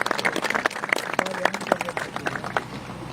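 Colleagues at a government employees' gathering in Islamabad clap to thank a committee, uneven clapping near the mic with crowd murmur and voices mixed in.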